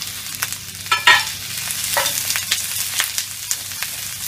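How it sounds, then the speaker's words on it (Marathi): Two onions fry in half a spoon of hot oil on a flat pan, a close, steady sizzle broken by repeated scraping stirs of a spatula at irregular intervals. "आता यामध्ये हे 2 कांदे ब्राऊन कलरवर चांगले असे भाजून घ्यायचे।"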